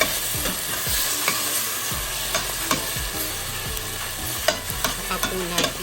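Chopped tomato goes into a hot pan after onion and sizzles steadily for a sinigang na salmon, with repeated stirring scrapes and clinks over a constant frying hiss, close and with no talk.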